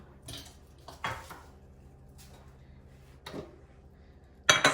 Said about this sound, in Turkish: soğan doğrama işinden kaçamıyorum